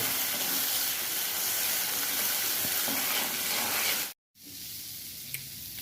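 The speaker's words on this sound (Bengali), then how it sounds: "একটু কষাতে হবে ভালো করে একটু জল দিয়ে দিতে হবে ভালো করে মিশ্রণটি মিশাতে হবে" Masala sautéing in a pan, a loud continuous sizzle and hiss with stirring, cut off abruptly near the end and then continuing as a softer, quieter sizzle.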